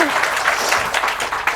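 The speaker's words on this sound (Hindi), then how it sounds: "पहले इस बच्चे की ताली बजा दो" Crowd at a spiritual gathering clapping for a child, a lively burst of many hands applauding with a voice briefly heard at the start.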